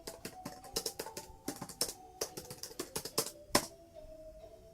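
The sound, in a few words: typing on a computer keyboard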